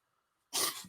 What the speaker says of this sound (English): So yeah, got a barking dog.